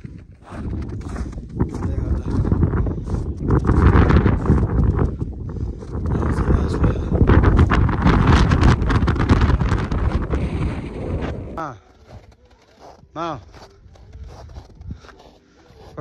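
Strong wind on the trail to Hidden Lake in the Annapurna region buffets the microphone in a loud, continuous roar for most of the stretch, then drops off sharply, leaving quieter gusts and a few faint sounds.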